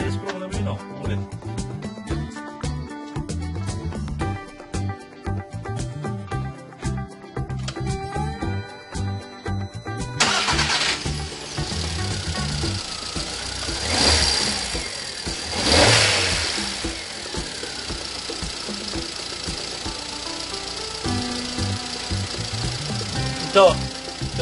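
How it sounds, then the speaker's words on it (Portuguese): A car's starter motor cranks with a rhythmic whirring stutter before the engine catches and fires, revving up and then settling into a running idle, heard close with someone talking over it. "E eu vou fazer ele tentar dar partida."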